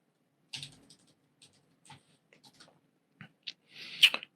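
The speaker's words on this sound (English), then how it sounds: "Apparently I can't type tonight either." Computer keyboard tapped in sparse, hesitant bursts of a few keystrokes, close and quiet against near silence, ending in a louder cluster of clicks.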